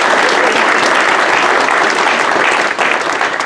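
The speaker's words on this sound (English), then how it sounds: "Let's give them another round of applause." Audience at a city auditor swearing-in ceremony gives bagpipers a round of applause, loud, full and sustained clapping from many hands that stays steady throughout with a brief dip near the end.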